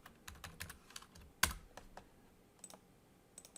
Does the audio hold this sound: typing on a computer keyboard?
yes